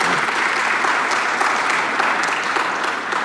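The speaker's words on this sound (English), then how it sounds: "Really, yes, round of applause," Dense, sustained applause from a sold-out luncheon audience at a Canadian Club event, a thick, even roar of clapping that holds steady for several seconds.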